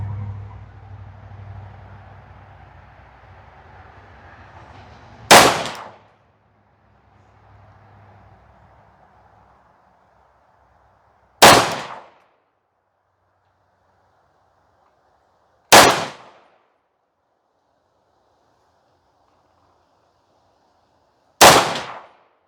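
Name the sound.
MC1911 Influencer X pistol firing five shots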